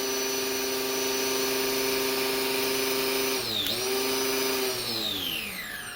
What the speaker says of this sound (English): you hear the motor just struggle